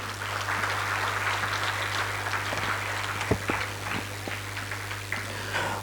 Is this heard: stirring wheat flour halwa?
no